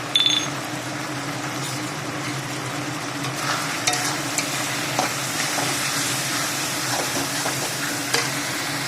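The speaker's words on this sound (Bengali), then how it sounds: "এটা মশলা দেওয়া হয়ে গেছে, মশলাটাকে নেড়ে চেড়ে নিয়েছি।" Turmeric, red chili powder, cumin powder and salt fry in a pan while being stirred, making a continuous close sizzle broken by soft scraping strokes, with no speech.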